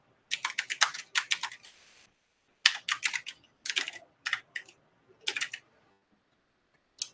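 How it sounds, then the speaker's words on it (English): Typing on a computer keyboard: close, crisp bursts of rapid key clicks in several short runs separated by brief pauses, with no voices. "I want to retype Cami demonstration."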